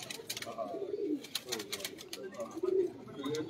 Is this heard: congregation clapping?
no